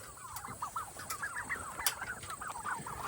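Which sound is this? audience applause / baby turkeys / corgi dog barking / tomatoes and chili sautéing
baby turkeys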